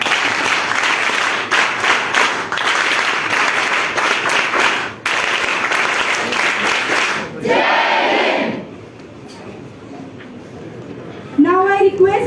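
A large group of students in a college hall claps loudly and steadily for several seconds during a felicitation at an awareness session. It stops abruptly, then voices and a few faint sounds follow.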